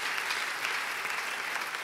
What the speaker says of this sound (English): you can give God a big hand clap for that